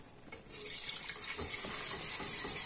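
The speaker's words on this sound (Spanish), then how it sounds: "Ahora le vamos añadiendo la leche fría." Cold milk pours into a béchamel sauce for a meat and cheese lasagna, a steady liquid trickling and splashing that grows slightly louder partway through, heard alone without talk.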